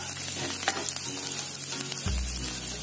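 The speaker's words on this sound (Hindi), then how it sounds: "तो इसमें हम डाल देंगे अपनी कटी हुई लहसुन और कटी हुई मिर्च।" Chopped garlic and green chili fry in hot oil for a Veg Manchurian, giving a steady, close, continuous sizzle with a low hum underneath and no talking.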